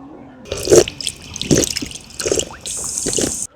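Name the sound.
drinking water running from tap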